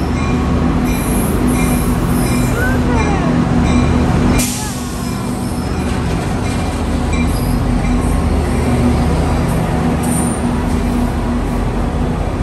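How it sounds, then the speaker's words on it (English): A large Tri-Rail commuter train passes close by, a loud continuous rumble with clanking and wheel squeal, marked by a sharp burst partway through as cars roll past. "Oh my god, look at that train, it's huge."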